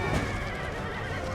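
Horses neighing and whinnying amid a cavalry battle in the strategy game Empire: Total War, loud and close, with faint hoof clatter beneath and no talk.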